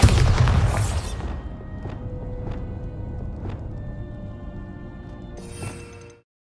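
A Bombarda blasting spell from Hogwarts Legacy goes off in a single loud, booming burst right at the start. A long rumbling tail fades out behind it, dotted with a few faint, sharp ticks.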